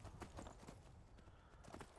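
A horse's hooves clip-clop steadily in Skyrim as a rider travels along, with quick, even beats kept faint and low in the mix.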